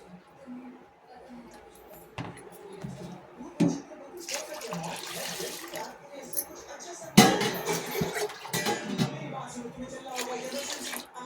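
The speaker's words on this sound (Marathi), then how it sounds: "आता आपण हे दोन वेळा स्वच्छ पाण्याने धुवून घेतलेलं आहे" Water splashes and sloshes in a bowl as lentils and rice are rinsed, with intermittent louder swishes and pours.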